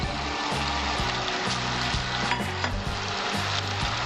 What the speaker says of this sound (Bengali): এর মধ্যে আমি মশলাটা ছেড়ে দেবো এক টেবিল চামচ জিরা বাটা দিলাম